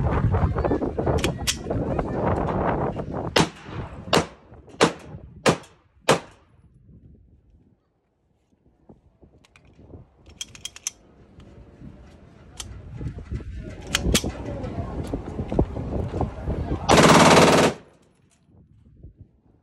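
A Glock 18C 9mm pistol fires in burst mode, giving several sharp, loud cracks spaced a second or so apart, then a quieter pause and a final rapid sustained burst near the end.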